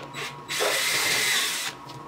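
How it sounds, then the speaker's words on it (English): A power drill boring holes partway into a wooden intarsia piece of a snowman and owl, a single loud whining burst of about a second with short faint motor taps before and after. "Then I used the drill to drill some holes, but not all the way through."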